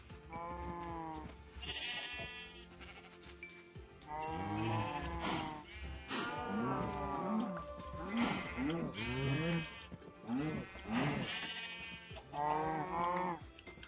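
Sheep bleat repeatedly in the Minecraft-style game Let's Survive in the Underground, several overlapping wavering calls from a penned flock mixed with lower moo-like cries from cattle, close and fairly loud.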